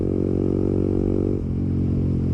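A Honda MSX motorcycle engine running up close, a steady low buzzing drone with a dense, even pulse that briefly dips midway and then settles again.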